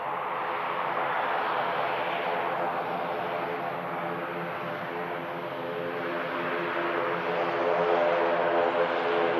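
An ATR turboprop landing at Manchester Airport gives a steady, droning propeller hum with layered engine tones, moderately loud and sustained throughout, with no talk over it.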